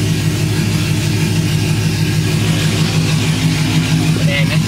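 A truck engine fitted with an aftermarket cam cruises just under 1,000 rpm, a loud, steady low rumble with a lopey throb that stays constant throughout, heard from inside the cab.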